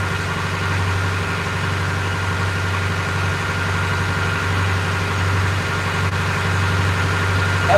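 A loud boat engine idles steadily while trolling slowly at sea around 3 knots, a constant low rumble with a droning hum that holds unbroken throughout, with no talking.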